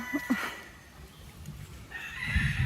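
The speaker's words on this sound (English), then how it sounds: "Chickens, shut up." Chickens cluck faintly in the background, a few short calls near the start and a louder burst toward the end.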